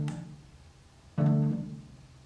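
Cello strings are muffled by a covering hand and then suddenly released and damped again, giving a soft early pluck and then a stronger, pizzicato-like resonant twang that decays over about a second, with no talking.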